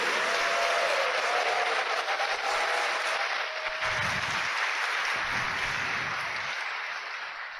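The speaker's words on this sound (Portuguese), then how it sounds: "Dê uma salva de palmas para ele." A church congregation bursts into sustained applause, a dense wash of clapping that holds strong and then slowly fades toward the end.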